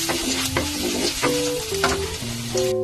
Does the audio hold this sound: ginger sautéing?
yes